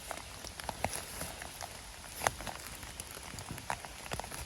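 Rain falls steadily in a forest during mushroom picking on a rainy day, a soft constant patter with scattered individual drops tapping nearby leaves and surfaces, no talking.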